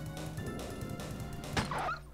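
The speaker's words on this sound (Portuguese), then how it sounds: "esses cachorros dão um susto do caraca, mano." Dogs in the original PlayStation Resident Evil bark in a short burst, with a sharp yelp rising above a steady game soundscape near the end.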